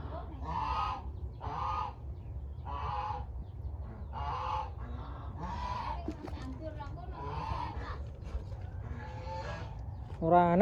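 Muscovy ducks calling in a village yard, a series of repeated loud nasal honks in an uneven rhythm, with other poultry sounds and a voice briefly in the background.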